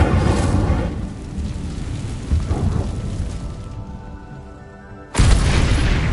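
A fire spell cast in the Hogwarts Legacy video game bursts out as a loud, broadband whoosh and boom, with a sharp, heavy burst near the end after a quieter, fading rumble.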